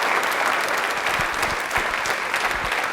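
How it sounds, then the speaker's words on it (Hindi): A studio audience at a Rajasthani television quiz programme bursts into a steady wash of applause, loud and continuous, with a few sharper individual claps standing out near the end. "तालियां बजा दीजिए"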